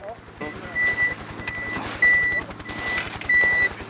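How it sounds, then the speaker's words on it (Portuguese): Repeated electronic beeping from an avalanche transceiver beacon, with short high tones spaced roughly evenly over a steady rumbling background, moderately loud. "Eles emitem um sinal audível, um bip, que fica mais alto conforme você vai se aproximando mais da vítima"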